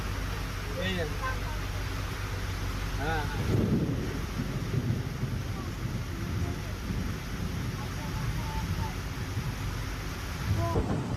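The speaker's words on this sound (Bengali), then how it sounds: "দেখো ওই যে বৃষ্টি পড়ছে।" Rain falls around a boat in the Sundarbans, a constant broad wash of patter and rumble, with a person talking over it in the early seconds and briefly near the end.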